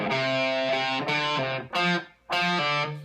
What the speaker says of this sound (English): I just added some overdrive there